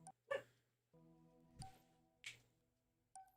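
Dogs bark and whimper indoors in a few short, separate yelps and whines spread across a few seconds, faint against a steady low hum.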